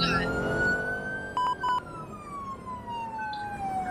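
A fire truck siren from a Clover Fire Department game wails loudly and continuously with sweeping pitch, broken briefly by a couple of sharp electronic horn-like blips partway through.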